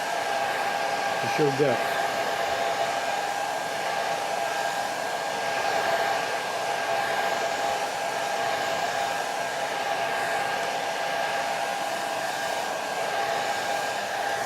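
Hair dryer blowing steadily and loudly on a watercolor painting on white paper, a constant airy whir holding for the whole stretch with a brief voice near the start.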